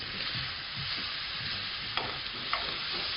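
Lamb cutlets frying in a pan, a steady close sizzle with a couple of sharp pops and scrapes as the pieces are turned.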